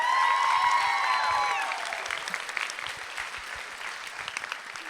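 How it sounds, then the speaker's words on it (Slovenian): Audience applause for a class teacher at a high school graduation ball in Koper, dense and loud at first with a ringing tone over it, then thinning into scattered claps. "si res naša razredničarka Ellen Slavec zasluži še en močen aplavz"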